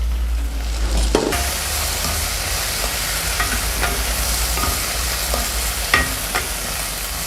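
Okra sizzles steadily in a hot pan, with occasional scrapes and taps of a spoon stirring it.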